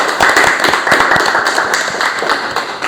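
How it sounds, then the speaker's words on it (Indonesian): An audience in a teacher-training session applauds a presenting group, a dense, steady burst of many hands clapping close by for a few seconds. "Tepuk tangan untuk kelompok 2."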